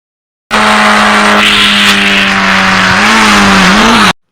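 A car engine revs hard and holds a loud, close, steady drone with a rising whine as the vehicle pulls away, cutting off abruptly at the end.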